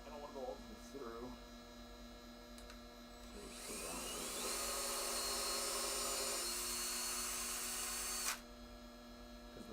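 A power drill drives screws into a hardwood box, its motor whirring steadily for several seconds and then stopping abruptly, over a constant electrical hum, with brief speech near the start.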